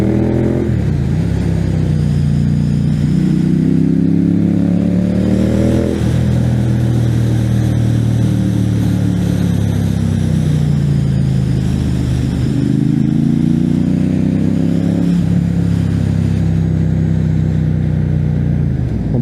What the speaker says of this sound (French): Le bruit de l'échappement Terminioni, c'est vraiment